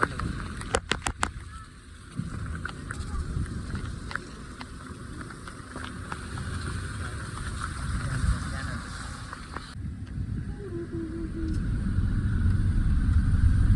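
A car drives along a hilly mountain road, its engine giving a steady low rumble that swells toward the end, with a few sharp clicks near the start.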